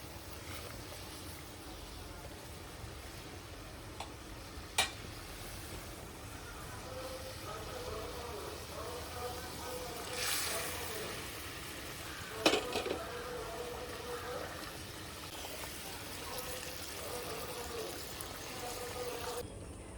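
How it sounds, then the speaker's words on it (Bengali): Fried chitol fish pieces slide into a simmering Bengali kalia gravy, a soft continuous bubbling and sizzle with a few sharp clinks of utensils, faint and close. "এবার এর মধ্যে দিয়ে দেবো আমি ভেজে রাখা মাছগুলো।"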